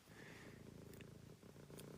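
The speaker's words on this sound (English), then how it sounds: "You're purring real big there." A cat purrs steadily while hidden beneath a bed, a continuous low rumbling purr running the full length without pause and fairly close.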